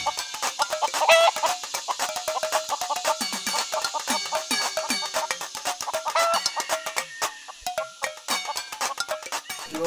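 Several chickens cluck and chatter steadily in a backyard chicken coop, a busy close chorus of short calls with faint clinks and rustles between them, with no talking.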